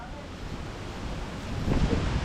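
Strong wind blusters across the microphone at a boat-building site, a broad continuous rushing roar that builds louder in the last moments, with no clear voices.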